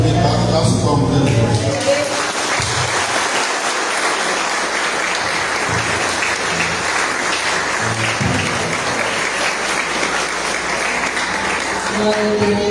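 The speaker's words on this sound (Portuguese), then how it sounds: "aplauso e palmas, né?" A church congregation applauds and claps through a worship service, a dense, steady wash of hands that lasts the whole stretch, with a voice speaking briefly at the start.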